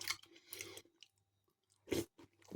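Digestive biscuits soaked in custard are chewed up close, with a few soft crunching bites separated by short pauses of near silence.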